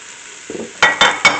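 Onions, leek and mushrooms go into a hot pan for Japanese curry, a quiet hiss followed by three loud, closely spaced scraping stirs of the vegetables.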